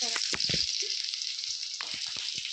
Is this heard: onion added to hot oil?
yes